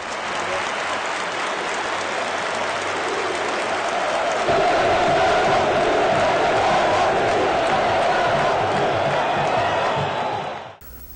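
A packed stadium crowd of Internacional supporters gives a standing ovation during a minute-of-silence tribute, with loud, sustained applause and cheering that swells midway and then fades out abruptly at the end.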